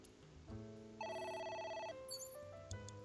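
A video game telephone in AI: The Somnium Files rings with a synthetic electronic tone, a couple of sustained bursts alone at moderate loudness.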